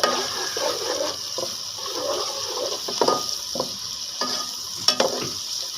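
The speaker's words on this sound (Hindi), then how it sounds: "अब इसमें अदरक लहसुन का पीस डालेंगे।" Whole spices (bay leaf, cumin, cinnamon, mace, green cardamom, star anise) fry with ginger garlic paste for eggplant biryani: a continuous soft sizzle with occasional spoon taps and scrapes, close by.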